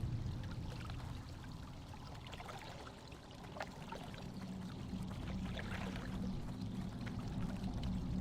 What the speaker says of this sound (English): it is a lot of water, isn't it? It's a lot of water sounds.